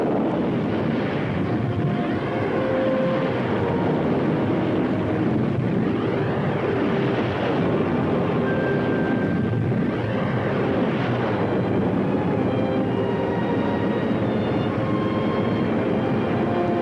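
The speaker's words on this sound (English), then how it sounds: "Engines at maximum speed." Spaceship engines at maximum speed in a 1960 science-fiction film, a steady, dense roaring rumble with whooshing sweeps, loud and unbroken throughout.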